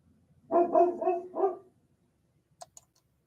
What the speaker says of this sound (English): I think the dog is yelling at a train.